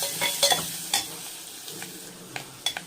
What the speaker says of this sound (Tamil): போட்டு மஞ்சத்தூள் கொஞ்சம் போட்டுடலாம். போட்டு நல்லா வதக்கிக்கணும்.